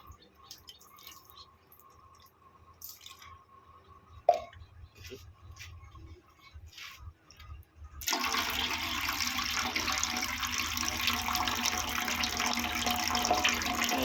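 Water poured over cocopeat to wash it during a sand test, with quiet trickling and drips at first, then a loud, steady gush of pouring water for the second half.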